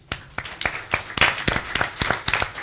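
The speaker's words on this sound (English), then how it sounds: "I want to give Garrett a round of applause." Scattered applause at a boxing press event honoring Garrett, with sharp, distinct claps from a modest group building into a steadier patter over a few seconds.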